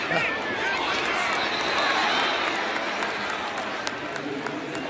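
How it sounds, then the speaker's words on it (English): A stadium crowd roars steadily near the end of an NFL preseason game between the Philadelphia Eagles and New England Patriots, a dense sustained wash of cheering throughout. "That's why you hear the crowd getting into"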